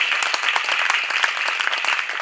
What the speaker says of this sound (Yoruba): Kọ́kọ́ pàtẹ́wọ́ fún Jésù. Clap for Jesus